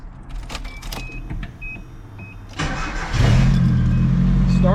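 A first-generation Nissan Hardbody pickup cranks with a few clicks and whirs, then its engine catches and settles into a loud, steady idle close by, with no talking.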